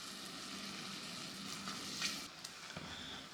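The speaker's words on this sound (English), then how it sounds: "You hear that popping? Those are the cranberries bursting." Fresh cranberries for canned cranberry sauce simmer in a cooking pot, giving a faint, steady sizzling bubble with soft scattered pops as the berries burst.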